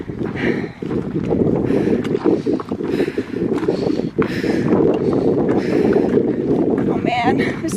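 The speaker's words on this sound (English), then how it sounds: "I can feel the breeze." A breeze blows across a hilltop during a thru-hike, a continuous gusty rumble buffeting the microphone up close, with a voice speaking briefly over it.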